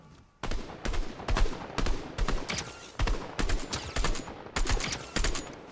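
Gunfire in Fortnite Zero Build rattles in rapid bursts of close, sharp shots, about a dozen volleys in quick succession with brief gaps between them.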